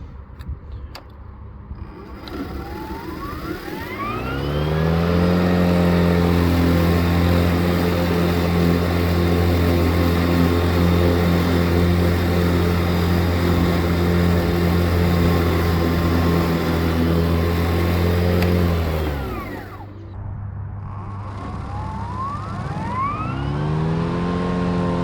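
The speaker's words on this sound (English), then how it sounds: "motor sounds really strong" EGO 56v Select Cut XP battery lawn mower with a double blade spins up, then holds a strong, steady motor hum with a whining tone for about fifteen seconds. It winds down and briefly restarts.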